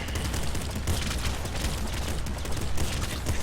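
A double machine gun fires nonstop in a video game, a dense, loud, rapid rattle of overlapping shots with booming impacts and no pause.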